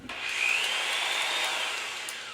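Hand honing of a bronze valve guide in a cylinder head, lubricated with WD-40, gives a steady close-up abrasive rasping scrape that holds at an even level for a couple of seconds.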